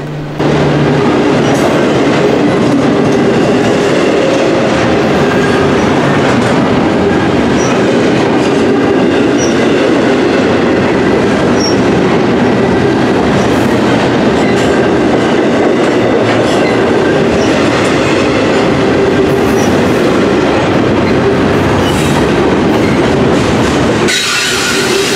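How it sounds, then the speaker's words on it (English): A CSX freight train, I-016, rolls past on the rails, a loud, steady roar of wheels with clattering railcars and faint squeals that goes on for the whole time without letting up. "I-016 is one of the many trains on this line that CSX dispatchers try to expedite across the system."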